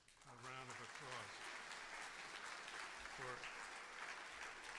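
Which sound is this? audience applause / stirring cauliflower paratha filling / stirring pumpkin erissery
audience applause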